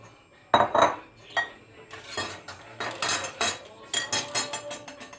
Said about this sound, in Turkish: Şöyle iyicene karıştıralım